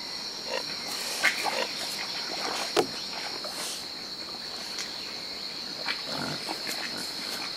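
Wild boars at a mud wallow give a few faint, scattered grunts and snorts over a steady chorus of crickets outdoors.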